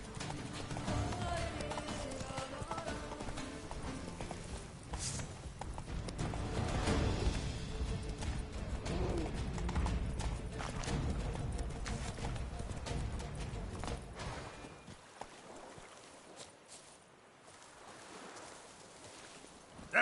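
Roach, a horse in Witcher 3, trots with a steady clip-clop of hooves over a dense bed of game ambience and music. The hoofbeats fade out near the end, leaving a thinner background.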